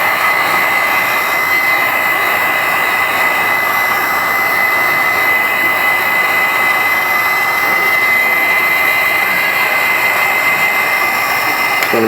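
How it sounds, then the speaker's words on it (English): A Wagner heat gun on its low setting blows a steady, even airy roar with a faint whine, close and unbroken throughout, with no talking. "We're going to use our Wagner heat gun, put it on low."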